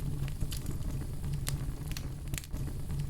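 A fireplace fire burns with a steady low rumble, broken by scattered sharp pops and crackles at fairly close range, with no talking.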